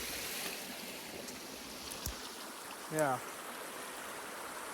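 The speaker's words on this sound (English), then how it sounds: "Small little cascade in this stream here." A small cascade in a stream in northern Minnesota rushes as a steady broad wash of water up close, with a brief short voice and a faint chirp over it.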